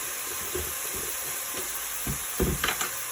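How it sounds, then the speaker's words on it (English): Minced garlic goes into a hot pot and sizzles softly at close range, with light scraping and a few brief louder stirs near the end. "we're gonna add 2 teaspoons of minced garlic"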